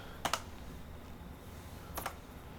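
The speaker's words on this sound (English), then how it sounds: "I'm sure by now you can hear my noisy keyboard clacking away" A noisy computer keyboard clacks in two short, quiet bursts of typing, with a near-silent pause between them.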